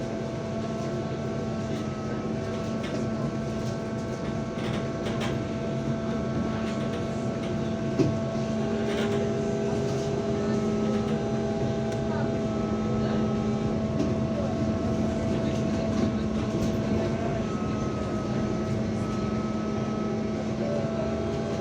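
A BKM-32102 trolleybus pulls in at a stop in Minsk, its steady electric motor drone and hum running throughout with faint whines, soft clunks and a small knock partway through; people talk faintly in the background.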